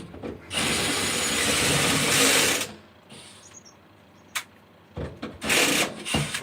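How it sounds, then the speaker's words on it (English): A blunt drill bit bores into a metal fuel tank, grinding in one long loud burst, then in shorter, fainter bursts and a final rough spell, with no talk. "we got the bluntest drill there"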